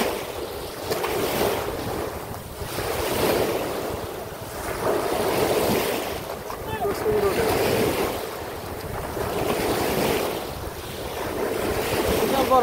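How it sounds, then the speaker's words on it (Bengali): Ocean waves roll onto a beach at Al Jayseeya in Qatar, surf rising and falling in steady surges about every few seconds, with wind buffeting the microphone throughout. "এত ঢেউ আসে তো"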